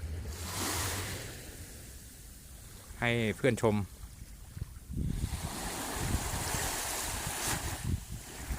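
Sea waves wash onto Suchada Beach in a broad, steady rush with gusts of wind. A person speaks briefly in the middle.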